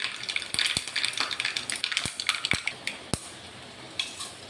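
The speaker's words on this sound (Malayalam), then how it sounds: "കടുക് പൊട്ടി" Mustard seeds splutter in hot oil while tempering for sambar, sharp crackling pops bursting irregularly over a soft sizzling hiss, close and fairly loud, with the popping thinning out toward the end.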